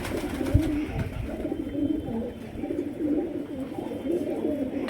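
Pigeons cooing in a low, repeated rhythmic murmur, several soft throaty calls close by over a faint background hum, with a light knock near the start.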